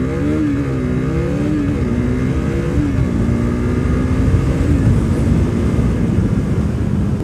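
A KTM RC 390 single-cylinder motorcycle accelerating hard, its engine note rising in stepped pulls through the gears, loud and close throughout with no talking.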